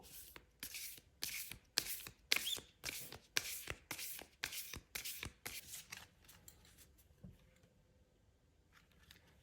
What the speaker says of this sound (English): we're just gonna shuffle